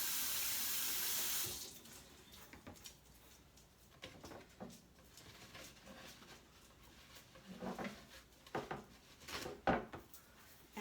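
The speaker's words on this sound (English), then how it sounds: "And then I'm going to wash my hands again." Water runs from a kitchen sink tap during hand washing, beginning as a steady loud rush, then breaking into softer splashing and intermittent louder splashes as the hands move under the stream.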